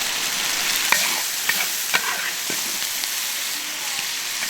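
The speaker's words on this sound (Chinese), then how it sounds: "好，炒肉" Meat being stir-fried in a wok for Sichuan twice-cooked pork, a steady close sizzle of hot oil with occasional scraping strokes and clacks of the spatula against the pan, no voices.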